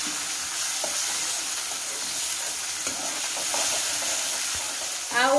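Chopped chilies and tomatoes go into upma frying in a pan, giving a continuous sizzle with scattered scraping stir strokes throughout and a short clatter at the very end.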